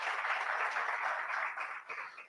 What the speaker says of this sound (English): Let's give an applause as he comes up.